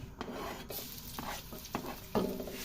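Garlic sautés in a pan, a soft steady sizzle broken by several scraping strokes of a spatula stirring against the metal, close and clear with no talking.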